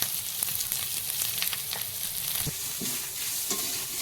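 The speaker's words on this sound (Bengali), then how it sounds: "আমটা একটু ভালো করে ভেজে মশলাটা ভাজা হয়ে গেছে" Spices with mango, ginger paste, turmeric and salt fry in a pan, a constant close sizzle broken by repeated scraping strokes of stirring, with no voices.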